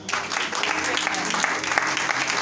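Applause from a church congregation at a French-language worship service, a steady dense clatter of many hands clapping close by for a couple of seconds, with faint voices mixed in.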